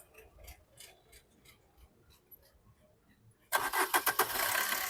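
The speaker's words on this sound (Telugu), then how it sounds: "సింగిల్ సెల్ఫ్లో బండి స్టార్ట్ అవుతుంది" A 2016 Maruti Brezza VDI diesel engine starts on the first crank, the sudden loud start and steady rumble following a few seconds of quiet clicking and faint background noise.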